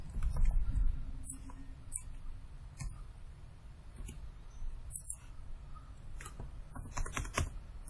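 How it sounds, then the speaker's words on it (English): Keys clack on a computer keyboard during Revit modeling work, a quiet, irregular series of sharp clicks spread across several seconds with brief pauses between bursts. "just keep on typing"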